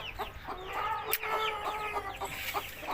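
Hens cluck repeatedly in short, busy bursts, close by, with a brief sharp knock partway through.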